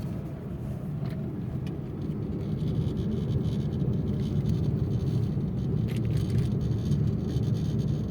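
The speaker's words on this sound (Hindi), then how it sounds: "अब लगाओ तीसरा गियर बेटा, तीसरा पूरा क्लच दबा के" A car engine pulls steadily in third gear during a driving lesson, a continuous low rumble that builds slightly in loudness and stays even, with no talk over it.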